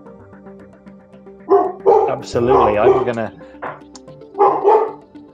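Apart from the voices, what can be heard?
dogs barking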